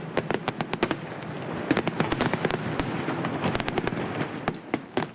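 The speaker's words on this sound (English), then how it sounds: "there was a large fireworks display at the Harbourfront Centre, which lasted for about 10 minutes" A large fireworks display at Harbourfront Centre in Toronto: rapid, irregular booms and sharp crackling bursts pile densely on one another, loud and steady throughout with no voices.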